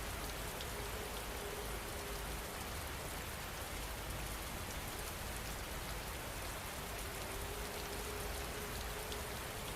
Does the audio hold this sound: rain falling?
yes